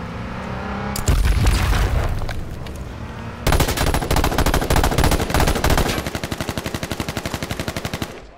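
Sustained light machine gun fire in the battle royale game H1Z1, with loud dense bursts and heavy booming shots, then a steady rapid rattle of rounds toward the end, close and continuous with no talking.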